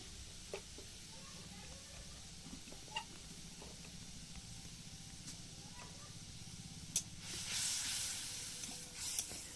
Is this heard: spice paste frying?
yes